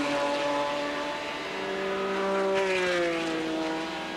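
A vintage BMW race car drives around a track, its engine holding a steady, fairly loud drone whose pitch dips and rises slightly through gear changes, with no talk.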